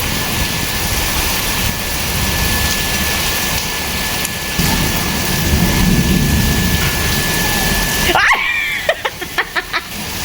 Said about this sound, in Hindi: ये देखो बारिश।